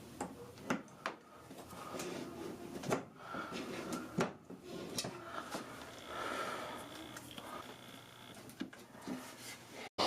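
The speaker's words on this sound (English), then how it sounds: "Still got a few nails and the drawer sort of just fell apart." An old wooden drawer held with long nails is pried apart, with repeated knocks, creaks and cracks of loosening wood and a few sharp snaps, close and fairly faint with no talking.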